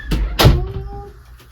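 A door swings shut indoors with one sharp, close thud and a brief rattle that quickly dies away. A lighter knock comes just before it.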